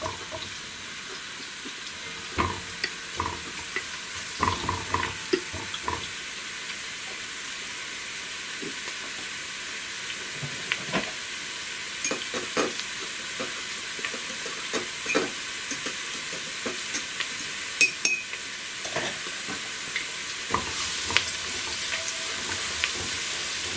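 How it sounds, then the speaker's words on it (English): Garlic and ginger sautéing in a pan as the base for cabbage soup, giving a steady close sizzle with scattered stirring clicks and scrapes throughout, no voices. "So I will just saute it for a little while"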